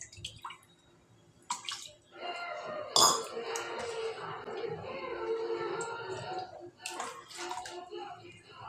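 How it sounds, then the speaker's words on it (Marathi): Water is poured into a pot of dal on the stove, a close splashing gurgle that rises midway and runs for several seconds. Brief voices and a clink appear around it. "वरण कितपत पातळ किंवा घट्ट आहे त्यानुसार पाणी घालायचं आहे"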